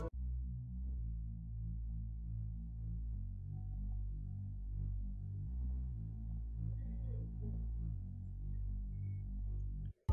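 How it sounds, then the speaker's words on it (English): Beautitude, a whiz bass patch from the Spiral plugin in an Afrobeat production, drones low and steady through a continuous line of shifting deep notes, alone and quiet. "The first one is more like a whiz bass that sounds like this."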